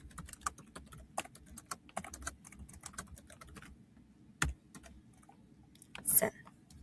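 An email being typed on a computer keyboard, with irregular quick key clicks up close, a louder isolated keystroke near the end, and a faint voice low underneath.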